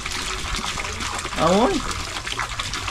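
Water runs continuously from a hand-pumped faucet, a steady gush and trickle heard close by. Voices talk over it, and a short whoop sounds partway through.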